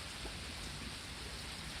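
Steady rain from a small storm, a dense, even hiss that is close and fairly loud throughout, with no pauses or voices.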